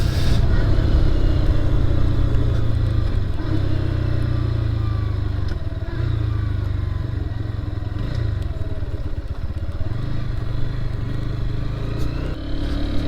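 A Lifan KP Master KPM200 motorcycle engine drones loudly and continuously while riding. The sound rises and falls slightly with throttle, and wind and road rumble run throughout with no speech.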